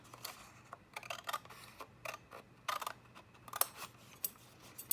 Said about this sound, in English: I'm just going to use my scissors and trim along the score lines